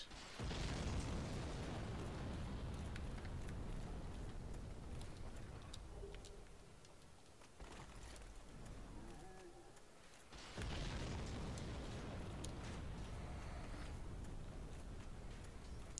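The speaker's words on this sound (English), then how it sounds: "To avoid the explosion." Explosion rumbling through a Dark Souls game level, loud broadband blasts at the start and again near the ten-second mark, each one sustained and roaring, with no talk over it.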